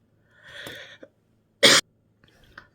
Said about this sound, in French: Désolée, j'ai toussé.